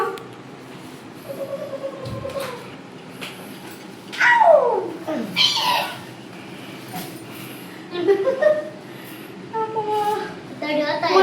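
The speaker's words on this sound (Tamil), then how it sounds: "பூனை இறங்குமா" A house cat meows in a drawn-out, sweeping cry near a home, with a few shorter calls following amid intermittent talking and background household noise.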